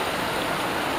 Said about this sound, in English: Hopefully you can hear the river, the water and the raindrops coming down, and hear the streams.